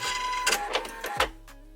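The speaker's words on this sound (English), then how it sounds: "cut it off with the automatic thread cutter, which is just over here, and then press the button" Automatic thread cutter on a Pfaff Creative Icon sewing machine runs through a short mechanical cycle: a few quick whirring, clicking bursts over a steady low motor hum, close and fairly quiet.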